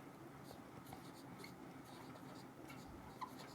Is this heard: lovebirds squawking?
no